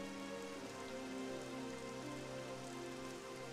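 Steady, dense rain falls continuously in the Dragon Quest XI video game, a constant close hiss of drops on surfaces with no gaps or speech.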